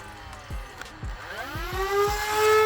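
A toy blaster's small electric motor whirs up in pitch, rising to a steady high whine, with a few sharp clicks and thumps early on.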